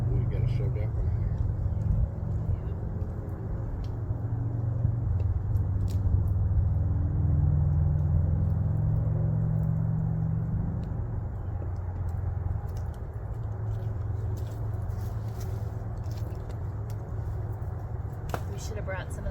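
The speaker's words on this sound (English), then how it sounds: "You can hear traffic" Steady low rumble of road traffic in the distance, continuous throughout, with voices talking over it.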